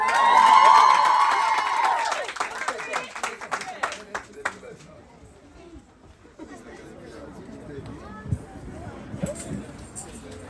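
Crowd at a high school awards ceremony cheers, claps and chatters loudly for a student at the start, then fades to a murmur of voices and scattered noise.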